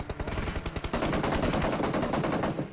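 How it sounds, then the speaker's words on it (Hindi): Rapid automatic gunfire in the mobile battle royale game PUBG Mobile, a loud dense burst of rattling shots that continues nearly without pause for almost three seconds. "हम पे फायरिंग होती है, पता नहीं कहाँ से।"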